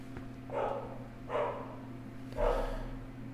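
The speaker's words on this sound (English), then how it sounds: "Fucking dogs." Three separate barks from dogs come at steady intervals, each a short muffled burst over a constant low hum, moderately close and with no talking.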